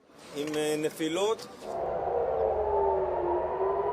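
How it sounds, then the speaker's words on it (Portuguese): A brief stretch of speech gives way to a loud, steady air raid siren wail in Israel that holds one tone and slowly sinks in pitch. "sirenes soaram nas cidades de Tel Aviv e Haifa"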